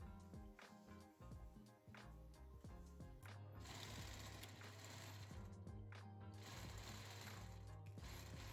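A sewing machine stitches pieces of a denim patchwork corset top together, a steady, close mechanical whir with a rapid needle rhythm, running continuously with no voices.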